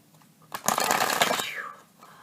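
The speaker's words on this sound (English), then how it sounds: "Let's clear it again. One more shuffle." A brisk riffle of tarot cards being shuffled, a dense papery flutter lasting about a second, close and fairly loud.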